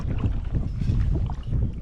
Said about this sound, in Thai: สภาพบรรยากาศเดี๋ยวลมเดี๋ยวไม่ลมครับผม